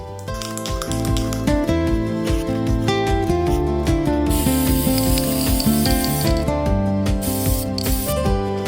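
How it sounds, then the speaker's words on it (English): Steady hiss of an aerosol spray paint can running continuously, spraying a Pokemon card, mixed with a dense clattering, rhythmic backdrop that stays loud throughout. "we're now ready to spray this thing"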